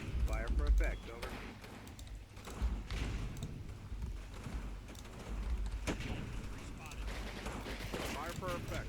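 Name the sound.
artillery fire for effect in the video game Combat Mission Battle for Normandy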